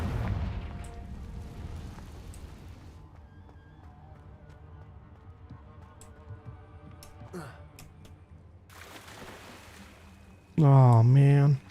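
A Confringo fire-curse spell is cast in the Hogwarts Legacy video game, with scattered crackles and bursts building to a loud, sharp magical blast at the end, while a person talks over the game.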